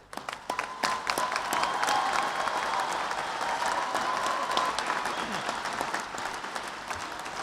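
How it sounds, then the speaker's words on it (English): Audience at an ROTC commissioning ceremony applauding the cadets, sustained dense clapping from a large crowd filling the whole stretch, fairly loud and even with a few sharper claps standing out. "Would you all rise and let us applaud you?"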